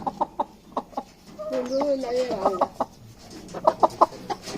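A rooster clucks and calls close by in a sharp, repeated series of short bursts, with a longer tonal cackle in the middle and a voice speaking briefly over it.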